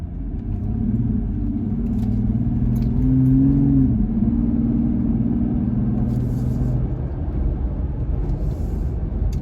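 A Jeep Gladiator's exhaust drones from inside the cab while driving, with a steady low rumble and a tone that rises briefly as it accelerates on a straightaway, fairly subdued, with faint jangling and no talking.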